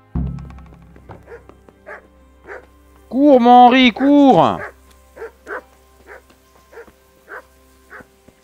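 A dog in the video game Kingdom Come Deliverance barks in a loud close burst of yelps and howls, followed by a string of short repeated barks; someone speaks briefly at the start.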